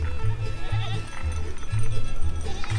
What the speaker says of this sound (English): We raise Kiko goats.